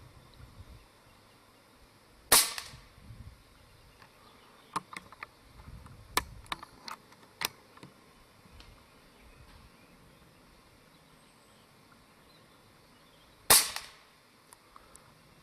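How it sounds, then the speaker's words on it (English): A Hawke SR scope is mounted on an air rifle firing at a target circle outdoors in wind. Two sharp, loud shots land about eleven seconds apart, with a few faint clicks and taps in between over low background noise. "Just going to continue putting a couple more shots into that circle."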